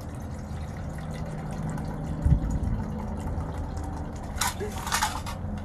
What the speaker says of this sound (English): I got my water in here and my canteen. We're going to pour that right in there.